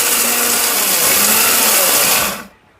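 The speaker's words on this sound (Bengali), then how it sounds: "অনেক ব্লেন্ডার বিক্রি করছি ভাই কিন্তু যে বারোশো ওয়াট ভাই এত পাওয়ারফুল কোন কোম্পানি দেখি নাই" A 1200-watt heavy-duty blender motor roars loud and steady up close, then cuts off abruptly and winds down to near silence at the very end.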